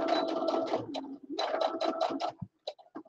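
A home sewing machine stitches back and forth with a thick stitch across a pillowcase seam, with quick rhythmic bursts of needle chatter, a short pause, then more runs and a few isolated clicks as it stops.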